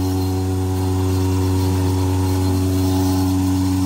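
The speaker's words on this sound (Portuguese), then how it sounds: "a gente ligou o motor aqui da ordenhadeira" A motor drives a cow milking machine in a farm milking area, a steady, loud, continuous hum with strong tonal bands that hold even from start to finish, with no voices.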